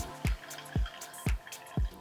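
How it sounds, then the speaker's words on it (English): Water is squeezed from grated cucumber wrapped in a cloth: four evenly spaced wet squelches, close and fairly soft, each with a trickle of draining liquid in between. "Gather the cloth and squeeze well with your hands. All the water will drain out easily."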